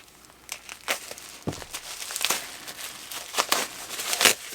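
Bubble wrap being crinkled and peeled off individually wrapped pieces of a 130-year-old Peter Henderson bagpipe set, a run of close, irregular rustles and crackles with sharper crinkles near the end.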